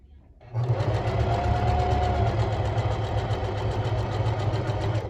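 A sewing machine runs steadily while elastic is stretched under the presser foot to gather fabric, a continuous close mechanical whir starting after a brief pause and holding to the end.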